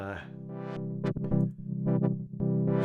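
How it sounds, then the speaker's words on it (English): A sustained synth tone in Bitwig 5 with gritty distortion, its harmonics shifting and pulsing as the effect sweeps, loud and up close with no talking. "Let's put a bit of distortion on here"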